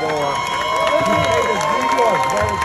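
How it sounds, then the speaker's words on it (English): A crowd at a live event cheers and claps loudly, with rising and falling shouts and whoops over a bed of applause, close and energetic. "give him a big round of applause"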